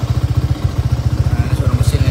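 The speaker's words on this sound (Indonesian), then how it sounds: "Nah, ini suara mesinnya nih." A Suzuki Gixxer SF 250 motorcycle with a 250 cc single-cylinder engine and twin-outlet exhaust runs nearby, giving a steady low rhythmic thumping with a brief faint hiss near the end.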